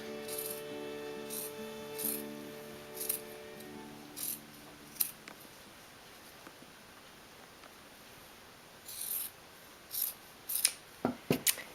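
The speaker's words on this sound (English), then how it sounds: "you're going to use that piece from the sleeve and just cut it in half" Scissors cut a piece of T-shirt sleeve fabric in half. Several crisp, close snips sound over a steady low hum, spaced out at first and then coming in a quick run near the end.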